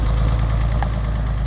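A 560 282 diesel tractor engine idling, a steady loud low rumble with constant throb and no change in pace over the short stretch.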